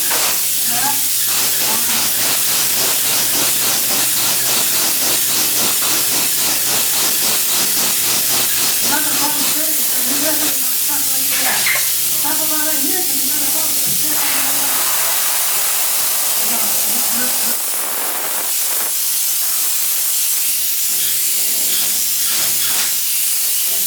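Spray foam insulation hissing steadily and loudly from a spray gun close by in a building under construction, a constant roar with faint voices underneath.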